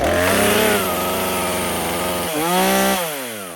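A small two-stroke engine, apparently a chainsaw used for land clearing, fires up on a single pull and revs loudly and steadily up close, dipping briefly before surging again near the end, with no talking.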